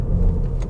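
A Ford Fiesta ST engine purrs steadily, a low, continuous rumble heard close up for a brief moment.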